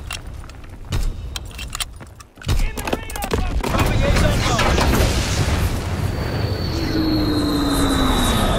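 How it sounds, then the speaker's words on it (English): Engine drone of a recon aircraft passing overhead in the Call of Duty WWII team deathmatch on Pointe du Hoc, rising into a steady roar with a whining tone, preceded by clattering impacts and bursts of game noise. "Recon aircraft ready for mission."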